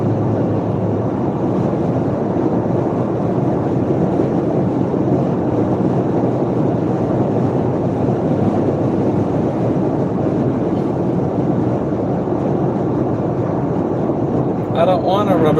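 Car engine droning like a lawnmower engine, with a rubber band transmission, heard from inside while driving as a loud, steady, unbroken low rumble and hum with road and wind noise, going on unchanged throughout.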